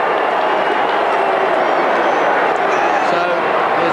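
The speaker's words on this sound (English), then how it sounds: "So there's a bit of booing" Australian Rules football crowd in a 1997 Essendon versus Brisbane match booing, a steady broad roar of the stadium crowd filling the whole stretch with no clear breaks.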